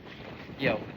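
Steady wind buffets the microphone in a continuous low rumble, swelling briefly louder near the end, with a voice faintly underneath.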